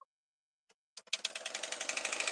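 A sewing machine runs a joining stitch, starting with a few faint isolated clicks and then settling into a steady, fast, rhythmic whirring stitch pattern, close and fairly quiet.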